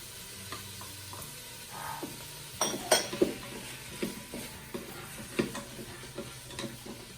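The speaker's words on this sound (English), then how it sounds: "Drop those carrots in. Drop that ham in." Carrots and diced ham drop into a hot Ninja Foodi pot for white bean and ham soup, giving a soft sizzle with a few sharp clatters and scraping stirs against the pot, close up and without speech.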